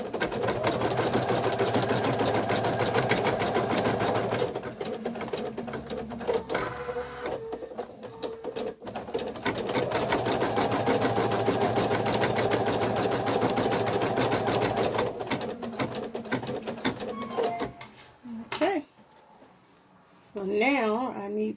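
A Viking Designer embroidery machine stitches minky fabric in a magnetic hoop, giving a loud rapid mechanical whir with a steady stitching pulse that pauses and resumes, then stops near the end as a person speaks briefly.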